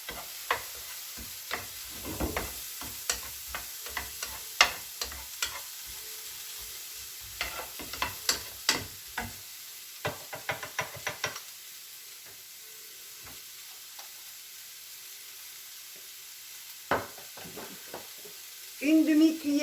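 Apples being stirred with a half teaspoon of four-spice blend, a series of close soft clicks and scrapes in an irregular rhythm, then a long near-silent pause and a brief burst of voice at the end.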